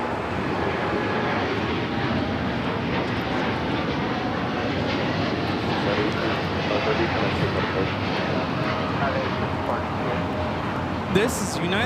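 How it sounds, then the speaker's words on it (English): United Airlines Boeing 787-10 Dreamliner taking off at LAX, a sustained loud jet engine roar with steady rumble, heard under people talking. "This is United Airlines 1855 taking off to Newark on the 787-10 Dreamliner."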